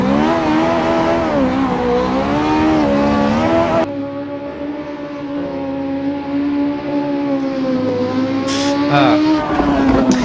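Ferrari F430 supercar in the Assetto Corsa racing game, engine howling at high revs then dropping sharply on a downshift, followed by steadier revving and brief crackles.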